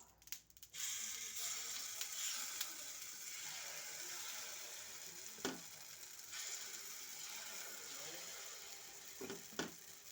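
Oil and appe batter sizzle steadily in a hot appe pan, a continuous bright frying hiss throughout with a few sharper clicks and metallic taps, no talking.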